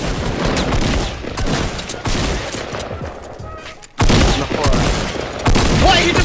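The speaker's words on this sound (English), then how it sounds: "Come on, shoot me! Shoot me harder" Rapid gunfire in the video game Fortnite, loud bursts of shots running nearly the whole time, broken by a brief near-silent gap before resuming even louder.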